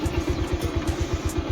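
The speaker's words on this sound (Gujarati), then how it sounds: "બાઈક લઈ લઈએ" A motorcycle engine idling close by, its low pulsing putter running steady and even for the whole moment.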